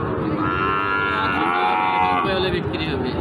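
Cattle, Shahiwal breed, mooing at a busy cattle market: drawn-out, overlapping lowing calls carry on continuously through the crowd's steady din.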